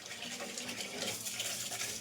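Water poured from a tap to wash rice in a home kitchen, a steady running splash that stays fairly quiet and even throughout, with no talk over it.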